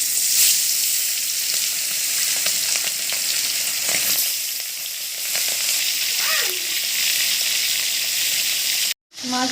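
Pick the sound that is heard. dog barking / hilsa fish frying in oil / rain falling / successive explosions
hilsa fish frying in oil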